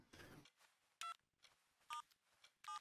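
A home telephone's keypad is dialed, giving three short, clear tones spaced apart against quiet, with a brief rustle at the start.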